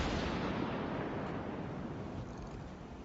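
High-explosive shells fire from a warship's guns in the naval combat game World of Warships Legends, heard as a faint, continuous booming rumble with no distinct separate blasts and no voices.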